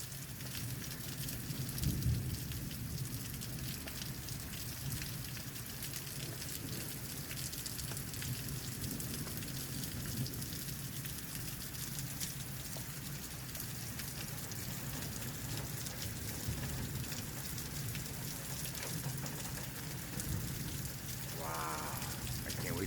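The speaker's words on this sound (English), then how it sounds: "It's raining hard too." Heavy rain drums steadily on surfaces throughout a thunderstorm, a dense, continuous wash with a low thump near the start and no talking.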